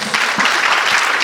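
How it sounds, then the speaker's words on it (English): Audience applause at an International Women's Day celebration, a dense steady wash of clapping that holds loud and close for its whole brief length. "Big round of applause."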